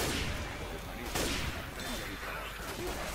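Gunfire crackles in a Left 4 Dead 2 game session, with one sharp shot standing out over dense, noisy background fire.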